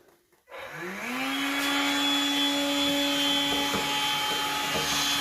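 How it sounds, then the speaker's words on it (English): A cordless blower starts up and runs steadily, blowing dust out of a Hotpoint tumble dryer during servicing; a loud, continuous whining whoosh with a rising motor tone that settles into a constant pitch, with no talking. "So I'll use that to blow all the dust out."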